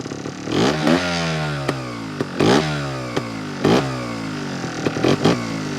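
A Honda Montesa 315R trial motorcycle engine idles with a chattering tick, then revs sharply several times in short bursts, each rise and fall loud and close.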